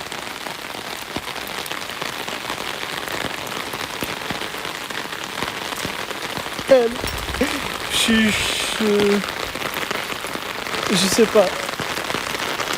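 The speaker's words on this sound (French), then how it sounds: "Je marche sous la pluie." Steady rain patters on the ground and surfaces outdoors while someone walks through it, a constant close hiss throughout, with a voice speaking briefly over it.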